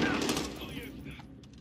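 Gunfire in COD Warzone: a short, fast burst of automatic shots that fades quickly, with game noise and a voice mixed in.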